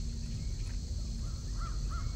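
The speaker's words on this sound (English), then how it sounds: "Those are pretty big birds, aren't they?" Great eagles in a video game give a few short, faint calls over a steady low background hum, with no talking.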